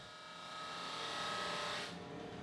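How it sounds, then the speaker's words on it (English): White oak boards feed through a drum sander, giving a steady, close abrasive whir with a faint hum that holds evenly and then drops slightly as the pass ends. "Now I can run the boards through the drum sander a few times until I've got a nice tight fit."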